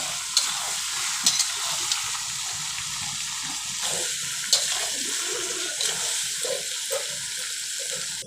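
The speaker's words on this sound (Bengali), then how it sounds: "এবার মাংসটায় জল দিয়ে দেবো" Chicken curry sizzles and bubbles steadily in a pan as water is poured in, with a few sharp clinks of a spoon or pot over the continuous frying hiss; no one speaks.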